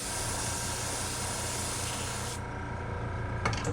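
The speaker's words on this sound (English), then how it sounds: "Now we got green in the airbrush." Airbrush spraying green paint onto a frog-shaped topwater splasher lure, a steady close hiss that runs unbroken and thins partway through, ending with a few brief clicks or taps.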